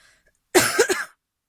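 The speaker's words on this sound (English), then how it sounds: "Sorry for the cough" A single short cough from a person with a cold, close and fairly loud, with two or three quick bursts in a row, followed by silence.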